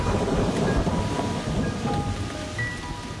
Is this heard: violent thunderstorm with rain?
yes